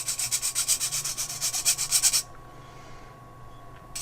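A Stabilo watercolor pencil is rubbed over a grater in a quick run of about fifteen rhythmic rasping strokes. The strokes stop abruptly, leaving near silence.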